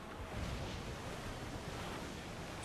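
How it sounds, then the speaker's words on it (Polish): Wind and rolling waves at sea while sailing in the video game Assassin's Creed IV Black Flag, a steady broad rush of surf and gusting air that holds even and continuous throughout. "Trochę nas wiatr zdmuchuje."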